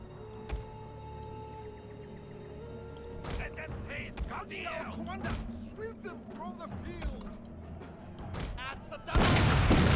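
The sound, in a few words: gunfire from troops shooting in a strategy video game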